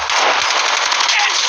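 Rapid automatic gunfire from Call of Duty Zombies on a game stream, loud and continuous, with a fast rattling burst running through the whole moment.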